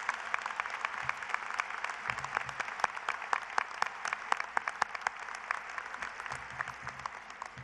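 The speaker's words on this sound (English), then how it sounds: "Please join me in a round of applause for these dedicated faculty members." An audience at the 2013 Haslett High School graduation ceremony claps for faculty members. The dense, steady applause runs throughout, even and sustained, with no speech.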